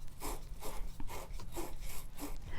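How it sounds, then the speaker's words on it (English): Steel wool scrubs the crud off a car battery post in quick rhythmic back-and-forth strokes, close and fairly quiet, about two strokes per second with no talking. "you can use just some steel wool if you don't have a post cleaner. Get all that crud off of it"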